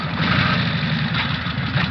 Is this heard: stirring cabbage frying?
no